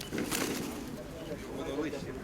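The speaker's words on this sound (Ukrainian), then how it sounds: "Це голуб." A pigeon coos softly nearby while people talk over it.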